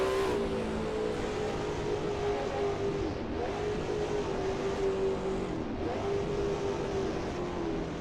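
A 1939 Grand Prix race car engine in Assetto Corsa at Chimay, droning steadily and loudly with sustained revs and brief dips around gear changes, no voices.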